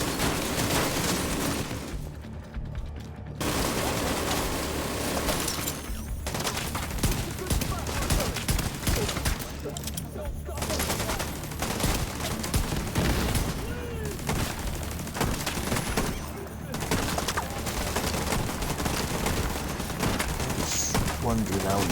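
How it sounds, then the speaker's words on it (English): Sustained bursts of gunfire and explosions from an ammo stockpile detonated in the video game Division 2, rattling densely and loudly throughout with brief drops, while a voice talks over the din. "I just found an ammo stockpile. I'm gonna detonate it."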